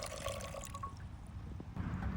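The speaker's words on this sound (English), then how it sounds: "put your wild rice in a pot and give it a good rinse" Wild rice rinsed with water in a pot, a soft, quiet sloshing and trickling of liquid with a few faint drips, heard close and alone.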